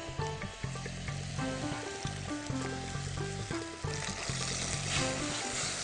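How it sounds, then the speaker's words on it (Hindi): Oil sizzles and crackles steadily in a pan as garlic and ginger fry, with a continuous hiss throughout. "आप इसको फ्राई करते जाएं जब तक ये थोड़ा सा थिक पेस्ट ना बन जाए"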